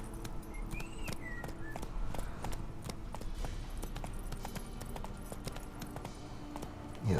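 Roach, the horse in The Witcher 3: Wild Hunt, gallops with a rapid, steady run of clip-clop hoofbeats, close and fairly loud, with faint game ambience underneath.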